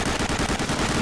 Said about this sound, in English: Now we are escaping to the airfield with one of their jeeps and using a machine gun to cause some help.